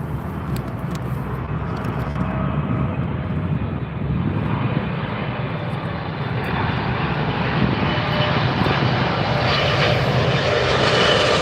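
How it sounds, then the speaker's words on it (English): An American Airlines Boeing 777 comes in to land close by at London Heathrow, its loud, steady engine roar filling the whole stretch and growing slightly stronger toward the end. "American 777 coming in next, folks. Coming in quite close."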